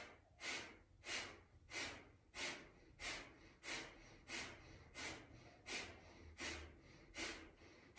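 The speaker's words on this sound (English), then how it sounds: "30 breaths, pumping the abdomen, focusing on the exhale" Rapid, forceful breath-of-fire exhales pumped through the nose, about a dozen sharp bursts at a steady rhythm of roughly one every 0.6 seconds, close and clear with no talking.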